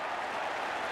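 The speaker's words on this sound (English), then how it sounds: "The crowd roaring, swelling up." A cricket crowd at a Test match between Australia and the West Indies roars and applauds, a dense, steady wash of cheering and clapping that swells briefly without a break.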